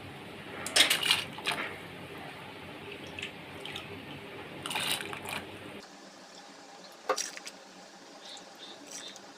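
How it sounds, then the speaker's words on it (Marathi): Lentils (dal) being washed in hot water, with quiet swishes, splashes and drips in a few short bursts, the loudest near the start and in the middle. "डाळ धुवून घ्यायची"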